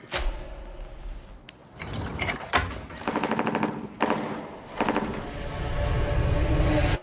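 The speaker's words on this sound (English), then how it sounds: "Were those gunshots?" Several bursts of rapid gunfire, loud and sharp, separated by short pauses, with a rumbling din between the volleys.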